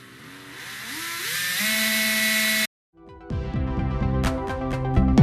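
A power drill bores into a resin Medusa bust, the motor whining up in pitch in short bursts, a brief pause, then another run of drilling with rattling, stuttering grinding as the bit bites into the resin.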